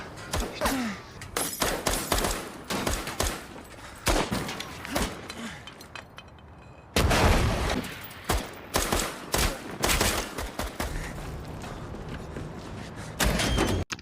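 Dense, rapid gunfire fills an action film gunfight, with repeated bursts and single shots, thuds and mechanical clatter, loud and chaotic with short lulls between volleys.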